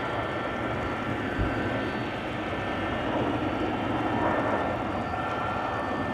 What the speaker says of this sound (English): Looks like a rejected takeoff for the A330.